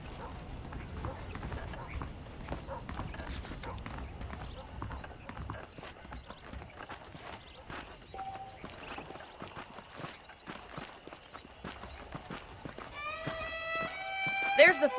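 Saddled horses in the Red Dead Redemption video game, hooves clip-clopping in a steady walking rhythm under background game sounds, ending with a loud whinny.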